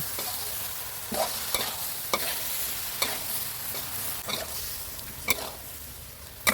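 Thai eggplant being stir-fried with shrimp, roasted chili paste and basil leaves in a pan: a steady close sizzle broken by sharp spatula scrapes and clacks at irregular intervals, with no talking.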